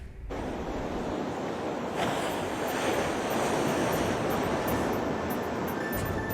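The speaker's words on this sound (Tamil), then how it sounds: "7 அடி உயரத்திற்கு கடல் அலைகள் எழும்பி கடல் ஆக்ரோஷமாக காணப்படுவதால்" Rough sea whipped up by Cyclone Ditwah off the Cuddalore coast, with waves rising about seven feet, roars in a steady, loud wash of surf and wind buffeting the microphone, without pause.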